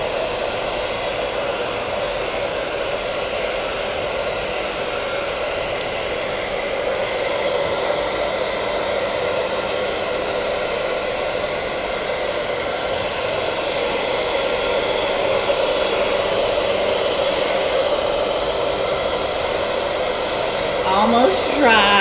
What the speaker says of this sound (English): as I'm drying it with the cool air, it's getting lighter and lighter.